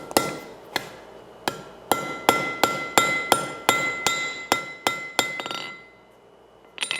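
Steady hammer blows ring out on hot metal at a blacksmith's anvil during forge welding, about a dozen sharp metallic strikes in an even rhythm, loud and close, with a bright clinking ring, then a pause and one final blow.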